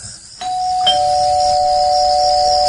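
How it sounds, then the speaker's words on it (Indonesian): A house doorbell rings loudly and close, two electronic ding-dong chimes in quick succession whose tones sustain and ring on steadily afterward, with no talking. "bel rumah itu berbunyi lagi."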